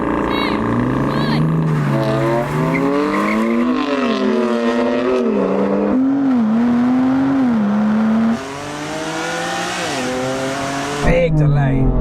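A car engine with an aftermarket exhaust roars and revs continuously during a race, pitch climbing and dropping through gear changes, loud and close throughout.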